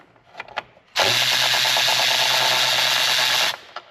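A powered wrench runs on a Chevrolet Tahoe engine: a few short clicks, then a loud steady whirring burst of about two and a half seconds that stops abruptly, followed by light clinks.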